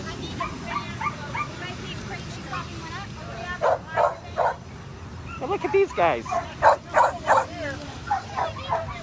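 Rescued dogs arriving by flight in Ft. Pierce give repeated high yips, whimpers and short barks, growing busier in the second half, while people talk nearby.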